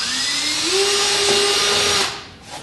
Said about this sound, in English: drill all 3 holes, flip it over and drill the back sides too.